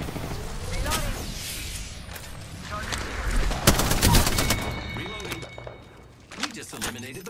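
Gunfire in Apex Legends: bursts of rapid automatic shots and heavier booming reports, close and loud, with a voice speaking over parts of the exchange.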